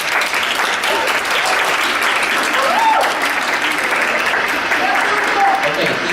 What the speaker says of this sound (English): Let's give Bertha a round of applause, shall we?